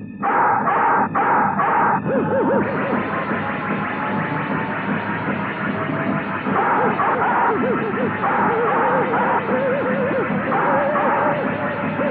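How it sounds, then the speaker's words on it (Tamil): Barking and yipping of a hunting dog chasing a deer, set in a Tamil film, repeated sharp barks over a dense, distorted soundtrack with effects and music, loud throughout. "யாரோ வேட்டை நாயை விட்டுருக்காங்க. அது மான துரத்திட்டு போகுது."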